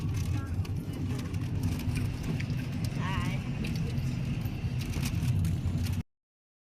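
Steady low road rumble from inside a crowded car travelling from Mumbai to Pune in heavy rain, with broadband hiss from rain and tyres on a wet road, continuous and fairly loud, with a brief chirp of voices partway through.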